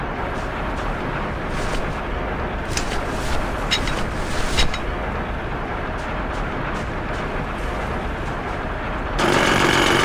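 A giant chisel machine in Grim Fandango grinds and rumbles steadily in a continuous loud mechanical roar, with a few rattling bursts and a heavier surge near the end.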